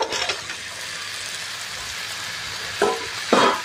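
Fried potatoes get stirred into a spice masala in a pan for a Bengali alur dum, with a steady background sizzle and a few scraping stirs standing out near the end.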